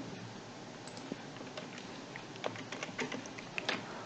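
Someone types on a computer keyboard, a quiet scatter of light key clicks that picks up into a quicker burst toward the end, heard close over faint room noise.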